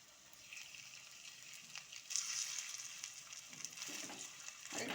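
Chira and semolina snack patties frying in oil in a pan over medium heat, a steady soft sizzle and crackle throughout with faint spoon and pan clinks, and no voice.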